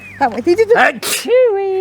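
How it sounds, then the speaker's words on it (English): A person's sneeze bursts out sharply once, close and loud, amid casual outdoor chatter from several people speaking before and after it. "Oh, I might sneeze in a second."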